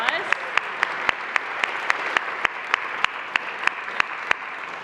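Audience at a community interfaith gathering applauds a worship band, a steady wash of clapping heard at a moderate distance, punctuated by a regular series of sharp, evenly spaced louder claps.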